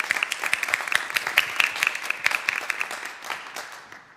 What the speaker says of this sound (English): Please show them with a round of applause.